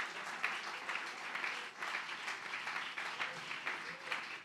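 A church congregation applauding, sustained clapping from a crowd that rises and falls for several seconds, heard at a moderate distance.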